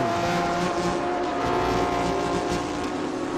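Several GT race cars, a Lamborghini, an Audi and a Ferrari, run close together through turn 3 at the B-Quik Thailand Super Series, giving a steady, loud, dense engine roar with no break and no talk.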